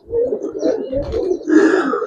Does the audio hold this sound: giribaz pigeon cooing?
yes